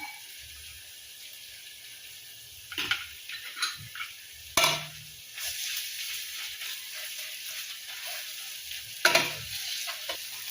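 Onion, tomato and crushed garlic fry in a pan for paneer masala, a quiet sizzle broken by several scraping strokes of a spoon against the pan that come in uneven bursts, with no talking.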